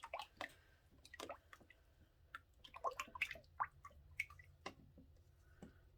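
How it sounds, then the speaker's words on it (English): A spatula scrapes and squishes soap batter out of the corners of a container, giving soft irregular wet clicks and smears at close range in a quiet room. "I'm just going to go in with a spatula just to make sure we have all of the oils out of the corners there"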